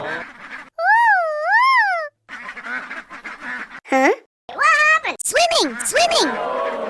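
Cartoon ducklings quack in a series of loud, bright, wavering calls, some drawn out and some short and clipped, alternating with children's-show narration and playful voices.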